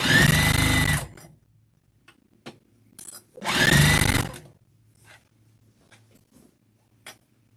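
Sewing machine stitching around an infinity scarf at a one-inch seam, in two loud bursts of about a second each, separated by quiet pauses with small handling clicks.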